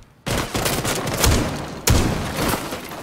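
Gunfire in Rainbow Six Siege: a loud burst of rapid shots starts the clip and carries on for about three seconds, with a sharper blast partway through and a continuous crackling spray of shots throughout.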